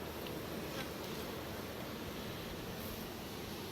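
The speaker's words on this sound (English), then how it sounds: "I'm getting pounded by bees here." A dense, continuous buzz of many bees fills the air close by in Canberra, Australia, steady and unbroken with no talking.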